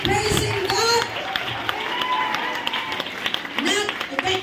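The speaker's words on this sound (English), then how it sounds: "Come on, let's clap our hands to Jesus." A church congregation claps hands together in praise during a worship service, the rhythmic clapping running under loud voices singing and shouting throughout.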